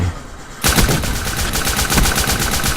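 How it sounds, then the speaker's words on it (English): Rapid automatic fire from a Banshee weapon in a shooter video game, bursting in loud and close after a brief quiet and hammering on in a fast steady rhythm. "I'm gonna get shot with a Banshee."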